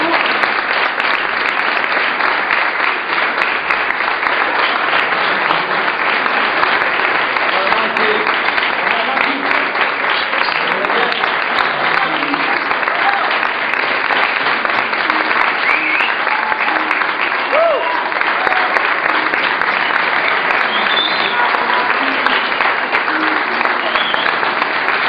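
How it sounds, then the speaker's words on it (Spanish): A large audience applauds after a church Bible school children's play, with dense, steady clapping and a crowd murmur running at an even level throughout. "¿No se merecen un aplauso?"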